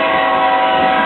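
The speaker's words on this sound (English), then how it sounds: "Here comes the train." A CSX freight train passes close by in Atmore, Alabama, a loud, steady rumble with tonal horn-like bands filling the short moment.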